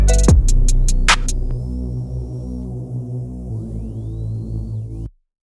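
A wide pad bass in a melodic rap mix plays as sustained low tones under a thin high lead line, steady and full for about five seconds before cutting off abruptly, with no voices.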